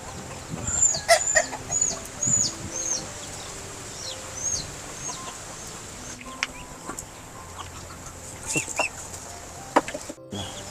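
Backyard chickens kept at a rural home cluck and squawk in short, repeated bursts at moderate distance over a steady outdoor background, with a brief faint crow-like call mixed in.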